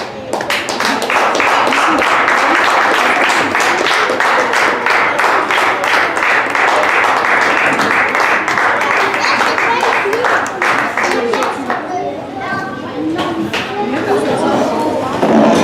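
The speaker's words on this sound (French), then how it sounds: "Si c'est pour moi que vous avez applaudi, je peux comprendre" A church congregation at a New Year's Eve vigil applauds loudly and continuously as an evangelist is welcomed, a dense wash of clapping mixed with crowd chatter and cheers that thins toward the end.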